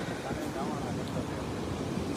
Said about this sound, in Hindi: और ये पत्थरों की आप लोग आवाज़ सुन सकते हैं